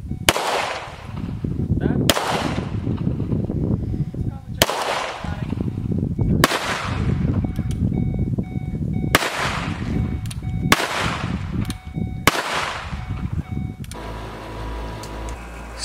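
Shotgun shots fired at outdoor skeet shooting, seven loud sharp blasts spaced about every one and a half to two seconds, each with a fading echo, with voices talking nearby.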